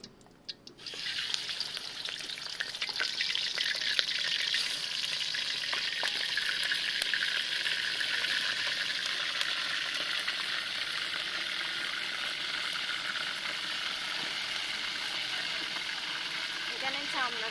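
Chicken pieces fry in hot oil with a loud, steady sizzle that starts abruptly after a brief clatter and continues unbroken throughout, close to the pan.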